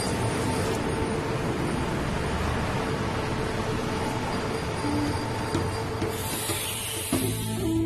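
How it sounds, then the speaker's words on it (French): A passenger train rolls south through Thailand with a steady, broadband rumble and hiss of rails and carriage, loud and continuous throughout with no talking. "Nous reprenons le train, toujours vers le sud."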